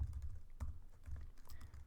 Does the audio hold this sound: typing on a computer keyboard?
yes